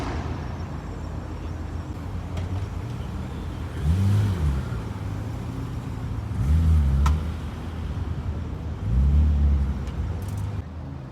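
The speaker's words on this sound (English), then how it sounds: "There's another GTT rolling in now." A GT-T car rolls in at a Sunday supercar meet at Daikoku, its engine rumbling low with a few swelling revs over a steady hum of idling cars and traffic nearby.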